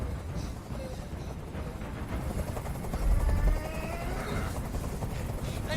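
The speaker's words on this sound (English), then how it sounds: "I can't stand that noise anymore. Tell that helicopter to get out of here." Helicopter hovering in the video game Detroit: Become Human, a steady low rotor thrum holding throughout with a brief swell near the middle, fairly quiet with faint voices in the mix.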